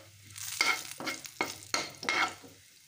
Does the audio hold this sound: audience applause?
no